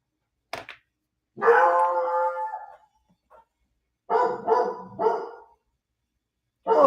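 A pet dog barks in short bursts at a moderate distance, clustered groups of yaps separated by pauses, heard in a quiet indoor room.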